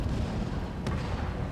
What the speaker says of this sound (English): I'm gonna turn it up a little bit so you can hear the animation, sound effect. So it sounds like you're shooting a cannon as well